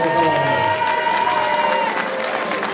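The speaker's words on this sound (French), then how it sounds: "Applaudissements pour M. Clément de Flandre." A crowd applauds at a running-race prize ceremony, honoring a Belgian runner. The clapping is steady and fairly loud, with some cheering, and sustained tones sound over it.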